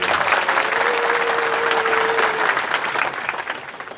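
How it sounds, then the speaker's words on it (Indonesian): Audience applause at a Maiyah gathering in Bali, a steady wash of clapping from a crowd that holds full for about three seconds, then begins to thin toward the end. "Mas Wildo, tepuk tangan untuk Mas Wildo."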